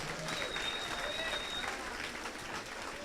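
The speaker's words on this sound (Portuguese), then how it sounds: "Aplauda o Senhor de novo." A church congregation claps steadily throughout at moderate volume, with voices and crowd noise mixed under the applause.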